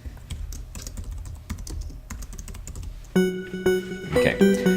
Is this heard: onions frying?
no